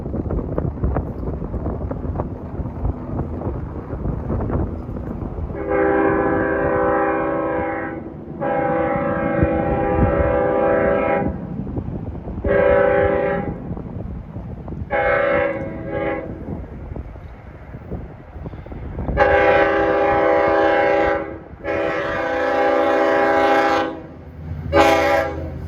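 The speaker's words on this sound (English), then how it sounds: "It's got a K5LL horn." An LIRR DE30AC diesel locomotive approaching Brentwood Road sounds its K5LL horn in a series of loud long and short blasts. Engine rumble and wind noise run underneath the horn.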